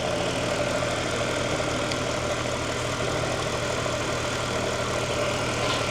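A Mercedes C63 AMG 507 Edition V8 idles steadily, a loud, close, even low rumble that holds without revving or voices.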